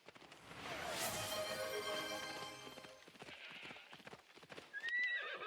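Horse in the video game Assassin's Creed Odyssey, hooves clip-clopping at a steady run while it lets out a loud neigh and whinny, close and prominent over in-game ambience.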